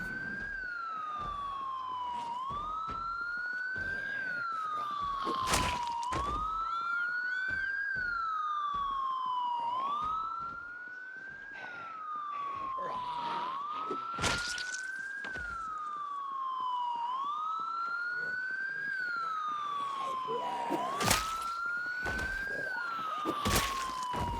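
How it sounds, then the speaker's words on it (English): A loud wailing siren in the video game Project Zomboid, rising and falling in a repeating cycle every few seconds, persistent and dominant across the whole stretch, with sharp clattering impacts and bangs scattered over it. "I want to turn this damn siren off because it's so damn loud"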